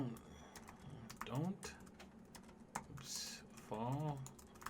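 Fingers tapping out a short comment on a computer keyboard, a close run of quick clicks that pause and resume, heard beneath someone talking over it.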